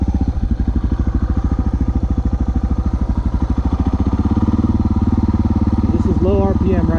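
A DR650 motorcycle fitted with a Dynojet carburettor kit runs at low RPM with a fast, steady thumping beat, then the throttle is opened and the engine note swells louder and fuller, close by.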